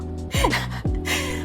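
A woman panting and out of breath takes two heavy, audible gasping breaths close to the microphone, with no words spoken.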